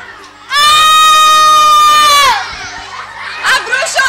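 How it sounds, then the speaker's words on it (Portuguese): A boy lets out a huge, loud sustained scream lasting about two seconds, followed by a noisy stretch of children's voices and shouting. "um dos meninos dava um grito enorme."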